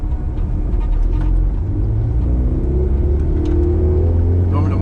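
Ford Escort MK1 RS 2000 driving on a road after reassembly and MOT, heard from inside the cabin as a steady loud low engine rumble and road drone with slight revving changes throughout.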